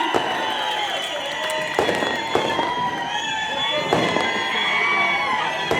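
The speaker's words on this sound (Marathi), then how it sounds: "सांगोलकर दोन्ही हात वरती, जोरदार टाळी" A big outdoor crowd at a political rally in Sangola, addressed by the Chief Minister Devendra Fadnavis, makes loud, continuous cheering and clapping with shouts and a few sharp bangs mixed in.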